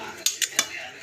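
A metal spoon clinks three times against a steel tiffin box while rice or food is mixed for packing, three sharp close taps spaced evenly over a quiet background.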